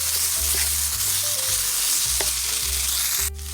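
Tomato paste and Dijon mustard being mixed in a hot pan for a cheeseburger casserole, a loud, steady frying hiss over a low hum, with a few soft stirring scrapes and an abrupt shift near the end.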